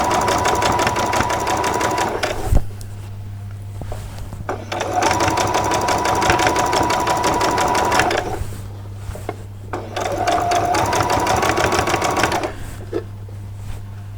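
Straight stitching on a sewing machine for a two-skirt dress comes in three long runs separated by brief pauses, loud and close, with a low steady motor hum underneath throughout.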